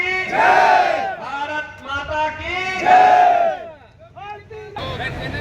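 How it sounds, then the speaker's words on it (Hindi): A large crowd at an outdoor political rally in Bhojawas, shouting together in loud, chant-like bursts, close and full, with a brief lull before the voices rise again. "योगीनाथ जी अभिवादन कर रहे हैं जोरदार तालियों से"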